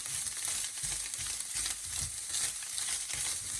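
Boiled crab tipped into a pan of pittu and mixed through, giving a steady close sizzle with soft rhythmic scraping and stirring strokes, no voices.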